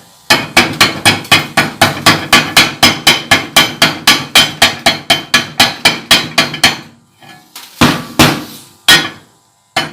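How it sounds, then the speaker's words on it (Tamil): A hammer tapping slag off a weld made underwater, a rapid even series of about thirty loud, sharp metallic strikes close by, then a pause and a few final blows, no talking. "தட்டி விட்டு காட்டுறேன் பாருங்க அந்த ஃப்ளெக்ஸை."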